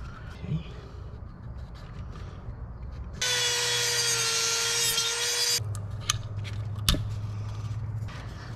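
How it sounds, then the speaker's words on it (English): A power tool cuts notches for wires into a battery box during a dual-battery install on a Chevy, giving one steady, loud whining burst of about two seconds amid quieter handling noises. "we got to cut these notches."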